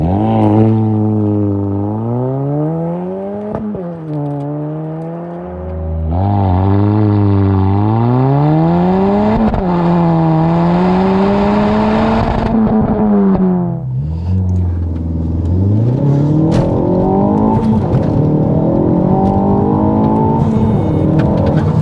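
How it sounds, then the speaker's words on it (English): A Ford Focus ST Mk4 running a Dreamscience Stage 2 map accelerates hard from a standstill, the engine climbing repeatedly through the gears with rising pitch and short dips at each shift, loud and close throughout. "Right, what we'll do here, we'll try a 0 to 60."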